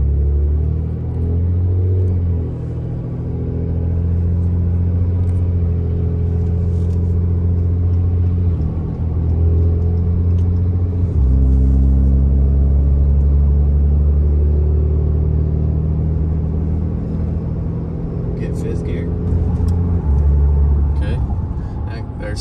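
A pickup truck's engine drones loudly and steadily as it revs through a run of transmission gears, its low pitch stepping at each shift.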